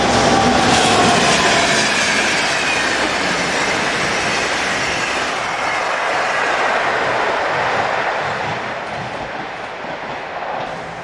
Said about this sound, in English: French locomotive number 15038 passes by with train Eurocity 90 from Milano to Brussels.